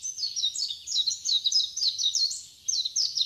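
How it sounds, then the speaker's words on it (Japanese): Japanese white-eye (mejiro) singing a fast, fine twittering warble of high chirps, continuous and fairly close with a brief pause near the end, no talking. "それでもう一つ聞こえたのがメジロですね。"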